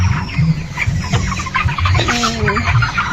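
Thirty-five-day-old broiler chickens, about two and a half kilograms each, cluck continuously in a poultry farm shed, a close, busy chorus of overlapping clucks with no talk.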